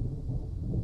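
Low rumbling thunder from a thunderstorm in the Outlaws of the Old West video game, a steady deep roll filling the brief moment with no voices.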